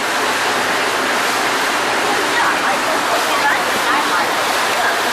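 River water rushing steadily and loudly close by, a continuous broadband wash with no breaks across the whole stretch.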